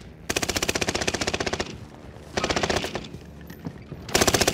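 Bursts of MG42 machine gun fire in Warzone Pacific on the Caldera map: a long rapid burst, a pause, a second burst, then another starting at the end, loud and close.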